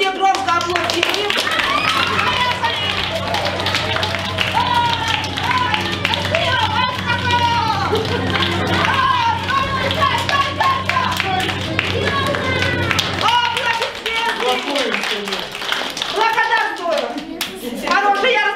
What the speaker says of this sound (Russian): а мы все громко аплодируем